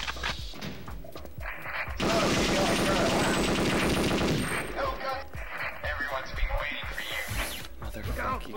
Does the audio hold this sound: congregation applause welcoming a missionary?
no